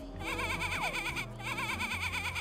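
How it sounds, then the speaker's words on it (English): Sheep bleating in the Placid Plastic Duck Simulator video game, two quavering vibrato bleats in a row over steady background game music. "The sheep goes"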